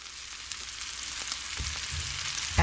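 Steak sears in a hot frying pan, a steady close sizzle and crackle running throughout with a few brief pops and a sharper burst at the end.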